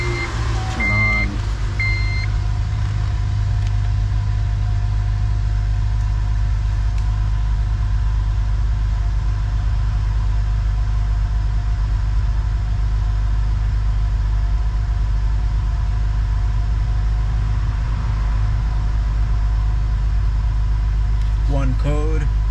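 A Honda Element engine idles with a steady, close low rumble that holds evenly throughout, with a few short electronic chimes near the start and at the very end.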